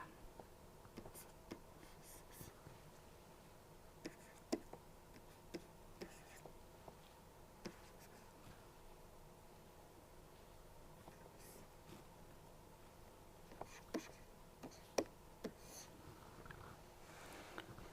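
Faint pen or chalk strokes scratch intermittently during a lecture on system reliability, with soft sharp ticks and scribbles over a quiet room hum.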